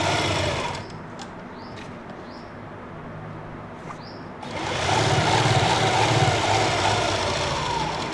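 A sewing machine stitches along the very edge of a salwar while a foam buckram stiffener is attached, running in a steady close whirr that pauses briefly and then resumes louder and denser.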